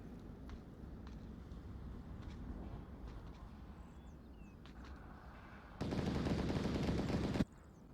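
Gunfire in an Onward VR firefight, scattered distant shots and sharp cracks over ambient noise, then a sustained loud burst of automatic fire lasting under two seconds.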